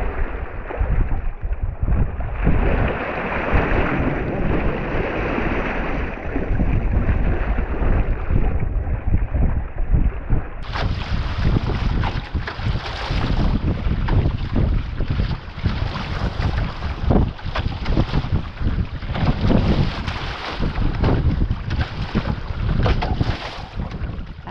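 Loud, continuous rush of wind and water around a racing boat at sea, with choppy surges and splashes of waves battering the hull throughout.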